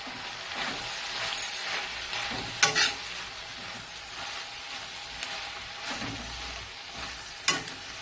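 Mutton curry frying in a pan as mint and coriander leaves are stirred through it, a steady close sizzle with a few sharp spoon scrapes and clinks against the pan.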